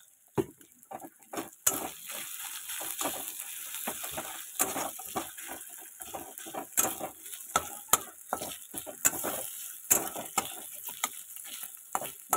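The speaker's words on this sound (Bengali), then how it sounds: "এবারে ফোড়নটাকে আমি একটু ভালো করে ভাজবো।" Cumin and chilli tempering with ginger frying in a pan, heard as a soft, steady sizzle broken by repeated clicking scrapes and taps of stirring against the pan, with no voices.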